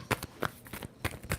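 A deck of tarot cards being shuffled up close, a handful of quick soft riffling taps in an irregular rhythm, faint and without talk.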